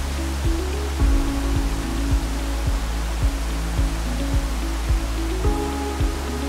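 Taarabu waterfall roars close by as a loud, steady broadband rush that fills the whole clip, with rhythmic low thumps repeating underneath it.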